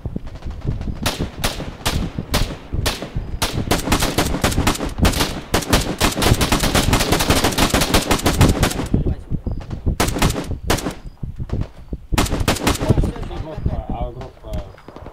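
Rapid, loud bursts of rifle and machine-gun fire in the war game ArmA 3, set in a Donbass battle, crack out in dense volleys with brief gaps between salvos.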